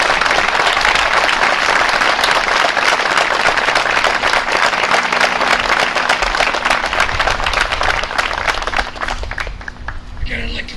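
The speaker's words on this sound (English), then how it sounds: "please join me in a nice round of applause" Onlookers at a Memorial Day parade in Southborough give a warm round of applause for the troops, close and dense clapping that carries on steadily before thinning near the end.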